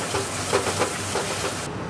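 Cooked, oil-released spice paste sizzles in a hot pan with a steady, loud hiss and a few faint pulses, then cuts off abruptly near the end; no voices.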